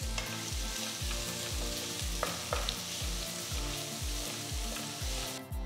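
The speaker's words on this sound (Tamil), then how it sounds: "அடுத்து கடாயில் 2 டேபிள் ஸ்பூன் எண்ணெயை ஊற்றி பட்டை, கிராம்பு, ஏலக்காய், சோம்பு, வெங்காயம் போடுங்க." Onions with cinnamon, cloves, cardamom and fennel seeds frying in oil in a kadai, a steady close sizzle with a rhythmic scraping pulse as they are stirred, no voices.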